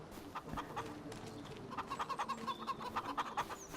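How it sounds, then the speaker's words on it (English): Chickens cluck and murmur around a caravan on a farm in the video game Farming Simulator 25, a soft rhythmic run of short calls that grows busier toward the end over quiet ambience. "It's where the chickens like to potter around."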